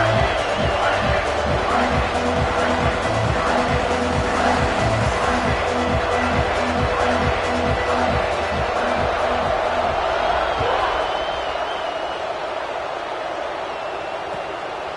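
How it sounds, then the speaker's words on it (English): A stadium crowd in an NCAA college football video game roars and cheers continuously at kickoff, a dense swell of voices with rhythmic chanting underneath, while a commentator talks over it and the noise eases slightly toward the end. "this crowd is feeling themselves after that last drive"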